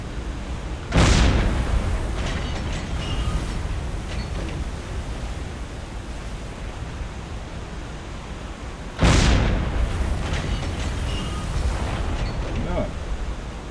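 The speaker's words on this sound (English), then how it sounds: "Already the first explosion," Explosions in the Silent Hunter 3 submarine game, two sudden loud booms several seconds apart, each decaying into a sustained roar of rough sea and engine rumble.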